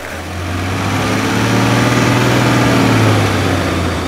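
The smooth six-cylinder engine of a 2021 Ineos Grenadier runs steadily at idle nearby, a continuous low hum that swells slightly in the middle before settling.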